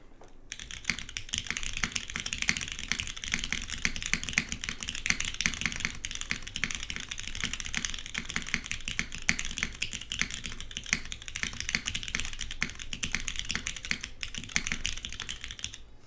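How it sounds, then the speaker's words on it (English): Steady, fast typing on a GSK 910 mechanical keyboard with MX1A black switches, O-rings, an aluminum case and GMK D12 keycaps, a dense run of crisp clacks continuing for the whole stretch, close and fairly quiet with no voices. "we'll do a quick typing test. This is the GSK 910 MX1A blacks on aluminum"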